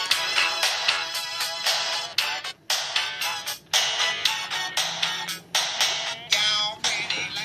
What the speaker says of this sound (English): here we are playing a little bit of an MP3 on my phone, going through the Urbanears speakers